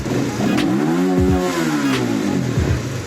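A Rusi Flash 150X motorcycle engine that will not hold an idle and tends to stall revs up and down close by, its pitch climbing and falling smoothly in one loud, continuous burst.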